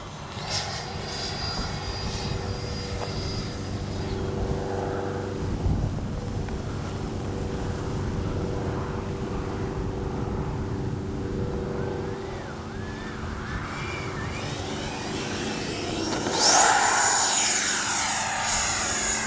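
Freewing 90mm F-22 Raptor RC jet with gear down, coming in to land: a steady ducted-fan jet roar, rising near the end as it passes close, with wind buffeting the microphone throughout.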